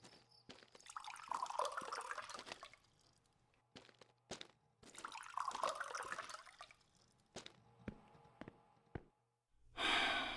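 Water is poured into a pet's water bowl, two separate stretches of splashing, trickling flow with clinks and drips between them, followed by a loud final splash.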